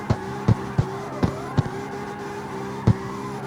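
A prototype drift car on street tires in CarX Street, heard as a steady engine drone with a few sharp, repeated tire-chirp bursts spaced unevenly, fairly close and without talk.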